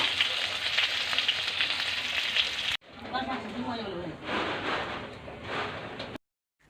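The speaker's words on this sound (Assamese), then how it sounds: "প্ৰথমতে মই কমকৈ তেল দি ফাৰ্ষ্ট আলুখিনি ফ্ৰাই কৰি ল'ম।" Potatoes frying in a small amount of oil, a steady crackling sizzle at first, then quieter bubbling with stirring as a person talks over it.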